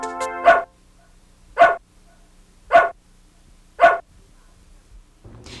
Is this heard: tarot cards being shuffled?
no